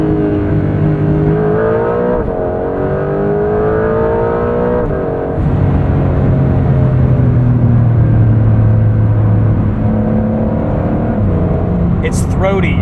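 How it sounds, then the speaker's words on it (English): A 2025 Porsche 911 GTS (992.2) engine gives a throaty, guttural drone that rises and falls through revs, close and loud beneath continuous talking. "It's throaty and guttural."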